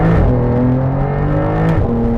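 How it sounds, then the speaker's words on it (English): A Porsche engine in Sports Plus mode revs loud and close, a sustained throaty drone whose pitch climbs and settles as the car pulls through a turn. "if you were to put it in Sports Plus, you can hear the revs"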